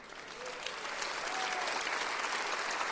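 A church congregation applauding, with clapping that swells from moderate to a full, sustained roar of many hands and a few voices mixed in.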